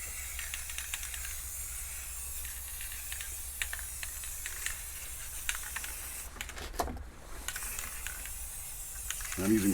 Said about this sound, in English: now we'll start spraying the background.